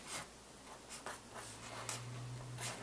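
Marker or chalk scratching across a board as a math problem is written out large, a run of soft strokes with short pauses, close and quiet, no talking.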